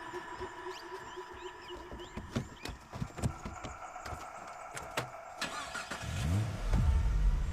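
A car engine turns over amid scattered clicks and knocks, then a low rumble swells and holds near the end as the vehicle pulls away close by, with no speech.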